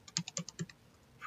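Quick bursts of keystrokes on a computer keyboard, several close clicks in an uneven rhythm, then a short pause before the tapping starts again. No voice is heard.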